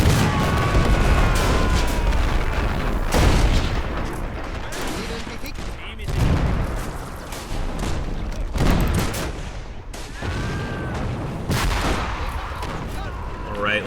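Continuous artillery bombardment and gunfire thunder through a 1933 Chaco War battle in a video game, with loud booms and rapid volleys of shots overlapping densely and without pause.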